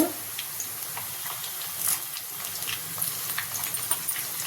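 Two green chillies and a sprig of curry leaves fry in hot oil for an egg dum biryani, giving a soft, steady sizzling hiss with faint crackles throughout and no talking.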